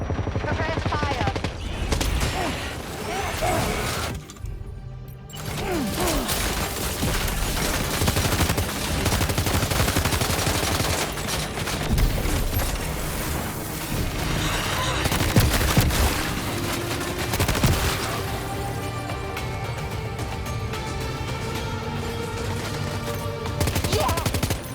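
Gunfire in Death Stranding 2: On the Beach, sustained loud bursts and volleys of shots rattling almost continuously, with brief lulls, dense game noise and music beneath.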